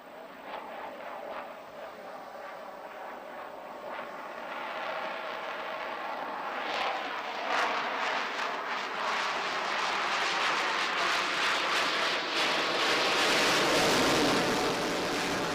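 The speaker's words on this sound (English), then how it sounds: "The pilot will now approach the dais displaying the slow speed characteristics of a 4++ generation aircraft" Jet engine roar of a 4++ generation fighter making a slow-speed pass at a Navy Day air display at Visakhapatnam, a broad distant rumble swelling steadily louder over surf-like background noise.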